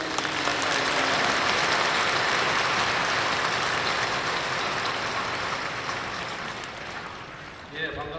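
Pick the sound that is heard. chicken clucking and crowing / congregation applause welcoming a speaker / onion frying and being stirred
congregation applause welcoming a speaker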